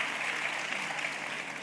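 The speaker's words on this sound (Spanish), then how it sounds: "Un aplauso para ellos." An audience at a philosophy talk at an ideas festival applauds the speakers, a steady wash of clapping heard fairly faint and distant throughout the short stretch, with no voices over it.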